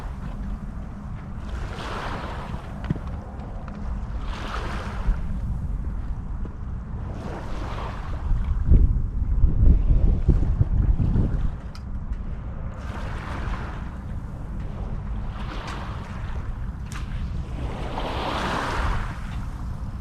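Steady wind rushing and buffeting outdoors in gusts on the River Humber shore, with a deeper roar swelling briefly midway, no voices.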